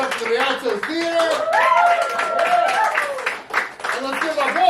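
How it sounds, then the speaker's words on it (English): An audience at a poetry night in the Rialto Theatre claps steadily, a close patter of many hands running under a talking host's voice. "Yeah, clap for it."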